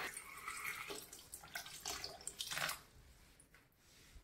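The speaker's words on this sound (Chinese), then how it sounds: "直接倒入锅中，倒入没过杨梅的清水" Clean water pouring into a pot of large, thick-fleshed bayberries, a steady splashing gush that tapers off, close and fairly quiet, with no voices.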